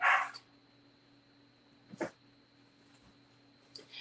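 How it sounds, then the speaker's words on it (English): A dog barks three short times, spaced a couple of seconds apart, fairly faint against a quiet room with a low steady hum. "now that he is with the others, he's the one doing the barking"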